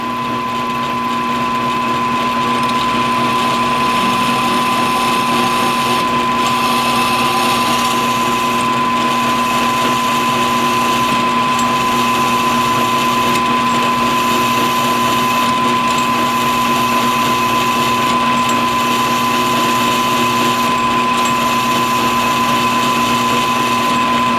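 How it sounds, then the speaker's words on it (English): A power drill with a 5/32 bit runs steadily with a loud, even whine, dipping briefly at regular intervals, drilling holes in a rifle build's center support. "So that'll give us the 5/32 drill."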